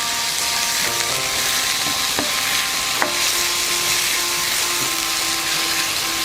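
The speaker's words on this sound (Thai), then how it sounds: "ใส่ตะไคร้ลงไปค่ะ แล้วก็ใบมะกรูดค่ะ เราผัดให้หอมเลยค่ะ" Lemongrass and kaffir lime leaves stir-frying for a spicy Thai chicken noodle curry, a steady close sizzle with scraping stir strokes and a few sharp utensil clinks, alone without talk.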